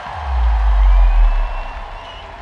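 A concert crowd at an outdoor summer festival stage cheers and whoops for a performer, a loud roar of voices and applause that swells then fades within a couple of seconds.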